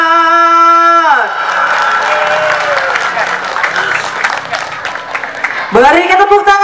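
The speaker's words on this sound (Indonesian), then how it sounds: "Beri kita tepuk tangan sekali lagi." Audience at a prize-giving night for the 2023 Mandi Safar festival claps and cheers with occasional whoops, a sustained crowd roar between stretches of sung or sustained musical tones at the start and end.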